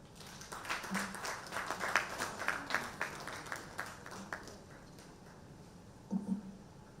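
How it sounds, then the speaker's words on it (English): Scattered applause from a conference audience at the NIGGSA 2025 session, faint and sparse: a handful of distinct claps that thin out after a few seconds, then a brief final burst. "A round of applause for them once again."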